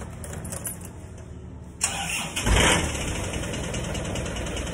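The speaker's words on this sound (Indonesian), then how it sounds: "dengarkan suara mesinnya suara mesinnya seperti ini" A recently rebuilt car engine turns over and settles into a steady, very rough idle nearby, with a faint jangle of keys just before it catches.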